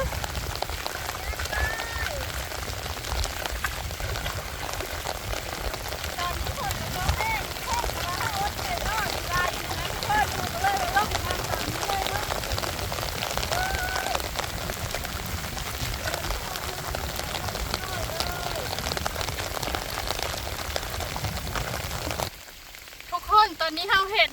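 Steady rain patters heavily on surfaces while snails are gathered, a dense continuous hiss that briefly thins near the end as a voice murmurs faintly underneath.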